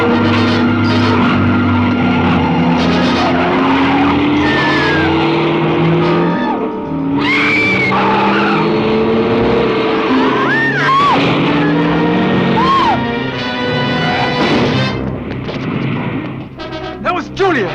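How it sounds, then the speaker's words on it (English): A car skids and crashes into another car, a loud, rough impact with a strained squeal, while several people talk and shout close by throughout. "She hit that car."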